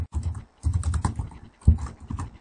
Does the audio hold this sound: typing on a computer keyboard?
yes